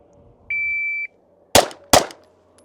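Two sharp handgun shots from a Canik pistol on a shooting drill, fired close and loud about half a second apart, with a short electronic timer beep sounding just before them.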